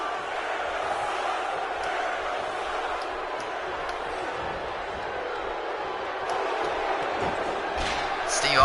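A large arena crowd in the WWE 2K18 wrestling video game roars and boos steadily during an Elimination Chamber match, a dense continuous wash of voices with no commentary spoken.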